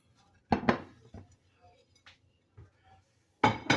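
A plate set down on top of a hot pan of Southern buttermilk biscuits, giving a few sharp ceramic-on-metal clinks and clatters in a quiet kitchen, close by.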